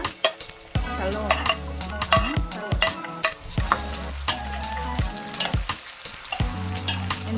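Squash and eggplant cook in a pan with a steady sizzle, while a utensil stirs and repeatedly clinks and scrapes against the pan in uneven bursts close by.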